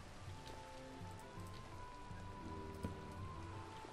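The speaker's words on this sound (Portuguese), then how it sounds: "E tá chovendo aqui dentro, né?" Minecraft rain pattering steadily on a surface, a soft even hiss of falling drops that stays faint and continuous, with a quiet low hum beneath.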